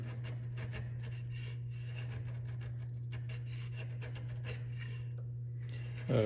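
A sharp chisel pares wood for a mortise and tenon joint in Chinese and Japanese style joinery, giving soft repeated scraping and rubbing strokes, faint and close over a steady low electrical hum.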